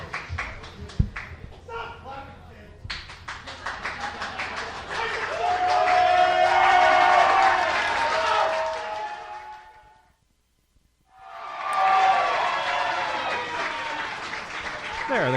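A wrestling crowd cheers and claps for Drex Odell, a loud swelling roar with applause that builds, drops briefly into near silence, then surges back, with announcer talk heard at the start.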